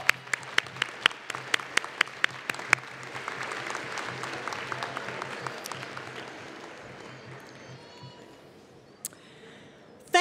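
Audience applause at a Spring 2012 MPA commencement ceremony: sharp individual claps near the start swell into a dense crowd clapping that gradually fades out, with a couple of late stray claps.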